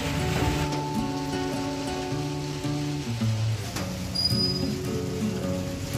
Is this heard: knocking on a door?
no